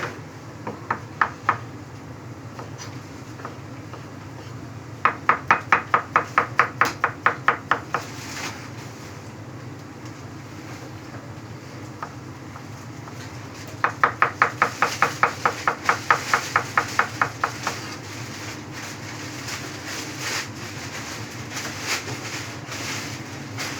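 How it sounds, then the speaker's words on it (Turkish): Two bursts of quick knife chopping of beets on a board, separated by a quiet stretch, with a few isolated taps in between; close and moderately loud. "Şimdi pancarlarımı doğrayacağım."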